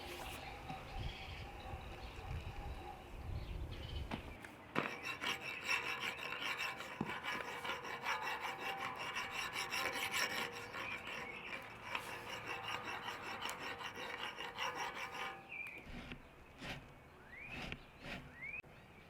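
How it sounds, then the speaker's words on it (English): Metal file rasping steadily across the steel screw of an old screw press to take down a high spot, continuous back-and-forth strokes close up with a few sharp knocks near the end. "maybe we can get away with just filing it away to get this thing back true"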